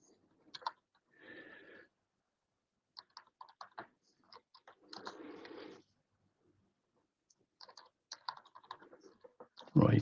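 Computer keyboard typing a short prompt, scattered bursts of clicking keys separated by silences, fairly close and soft, with a louder thump at the very end.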